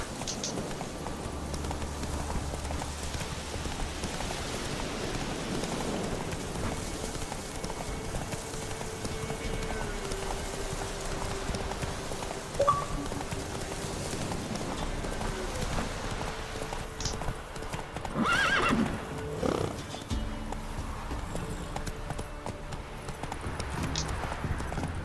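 Hoofbeats of Roach, the horse in The Witcher 3, clip-clopping at a run through a steady game-world ambience, with a brief neigh-like burst near the end; no speech.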